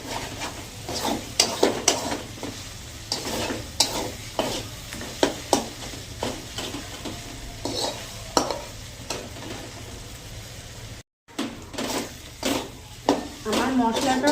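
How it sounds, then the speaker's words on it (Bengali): A spice paste of ginger, garlic, black pepper and chilli frying in a pan, with a soft sizzle under repeated scraping stirs in an irregular rhythm, close by, and a voice speaking at times. "আমার মশলাটা কষানো হয়ে গেছে।"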